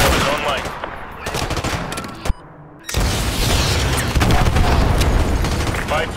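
Heavy gunfire and booming missile impacts rumble through a Modern Warfare 2 Remastered mission as AGM strikes hit, loud and dense, with a brief sharp blast and a short dip before the explosive barrage resumes.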